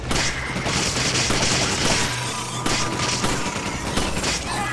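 Gunfire rings out in the video game Resident Evil 5 as a rapid series of loud, sharp shots and booms over a dense, noisy game soundscape.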